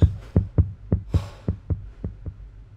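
A horror video game's heartbeat effect: about ten deep, muffled thumps in a steady, slightly quickening rhythm, close and prominent with nothing else heard.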